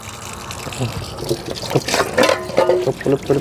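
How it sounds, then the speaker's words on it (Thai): Dishes being washed under a running tap, with water gushing and splashing over cups and plates in an irregular, close stream while a voice talks over it. "มาล้างถ้วยถาเพิ่นก่อนเถอะพี่น้องเอ้ย"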